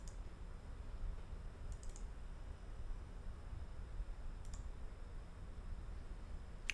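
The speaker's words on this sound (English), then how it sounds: "Loud typing? Is it too loud?" A computer keyboard is typed on in a few sparse bursts of crisp clicks over a constant hiss, with no talking.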